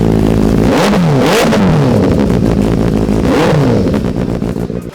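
A used superbike fitted with a full-system exhaust roars close by, revved hard in several sharp bursts that rise and fall over a loud, rough idle.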